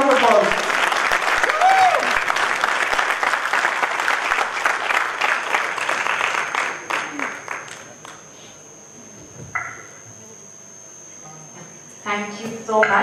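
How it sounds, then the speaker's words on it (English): An audience at a Toastmasters talk gives a loud, sustained round of applause that gradually thins and fades out, followed by a few short isolated sounds, with a voice heard near the start. "Let me have a loud round of applause."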